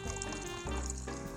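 Soda water poured into a cocktail, a brief close fizzing, sizzling stream of carbonated liquid lasting about a second and a half.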